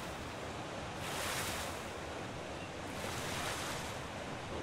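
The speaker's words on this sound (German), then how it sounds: "Ich bin mal hier in der Höhle hinterm Wasserfall." A waterfall roars inside a cave in the video game ARK Ragnarok, a steady, dense rush of falling water that swells slightly in two surges and fills the scene without any voices.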